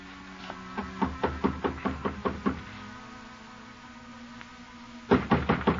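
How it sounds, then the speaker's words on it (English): Knocking on an apartment door as a radio drama sound effect: a run of about eight firm, evenly spaced raps, a pause, then another short burst of knocks, close and clear over a quiet room tone. "climbed the stairs, and knocked on her door."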